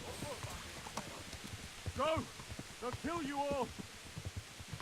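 Horse hooves clip-clopping in Kingdom Come: Deliverance, a quick steady run of soft hoofbeats throughout, with a voice talking over it.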